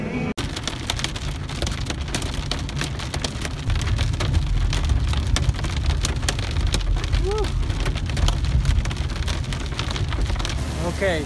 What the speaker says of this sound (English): There's a big storm going on right now.